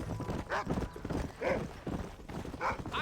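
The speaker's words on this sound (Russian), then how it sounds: "Вот, смотри, какая лошадь" A horse in the Red Dead Redemption video game: irregular hoof clops and breathy snorts, fairly close, within a busy game soundscape.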